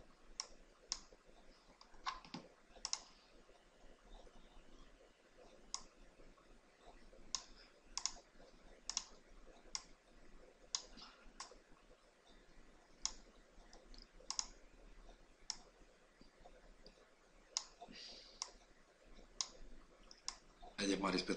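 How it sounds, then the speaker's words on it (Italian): Sharp, isolated computer mouse clicks and an enter-key press repeat at irregular intervals while modelling a car in Maya, quiet and close, with faint room hiss between them. "Clic, invio, andiamo a sistemare."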